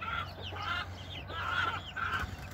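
Six-week-old chicks cluck and peep in a continuous, moderately loud chorus of overlapping calls over a low steady background hum, with no talking.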